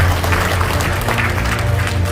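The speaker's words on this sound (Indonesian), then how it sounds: "Ya, tepuk tangan buat Bapak Ibu semua." Audience at a debt-relief business seminar applauding, a dense, steady patter of many hands clapping indoors, loud and close, lasting the whole moment.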